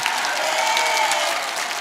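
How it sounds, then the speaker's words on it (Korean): Audience applauding steadily at a Korean-American community speech event, a dense, even wash of clapping that holds at close, full volume throughout without pause. "여러분 누군지 알고 박수 쳐요?"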